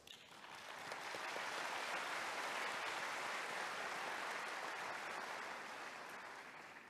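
A large hall audience at the 2022 FIATA World Congress opening ceremony in Busan breaks into applause, rising quickly to full, even clapping that holds steady and tapers at the end.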